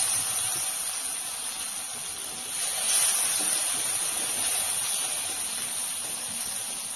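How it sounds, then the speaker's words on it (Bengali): Chopped tomatoes sizzle in hot oil with bay leaf, whole cardamom and cinnamon, a loud, continuous hiss that swells slightly partway through and holds steady throughout. "তেলের ওপরে তেজপাতা গোটা এলাচ আর দারচিনি ফোড়ন দিলাম এরপর টমেটো কুচিগুলো দিয়ে দিলাম"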